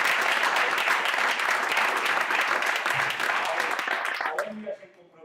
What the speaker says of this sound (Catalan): que vull demanar un aplaudiment perquè...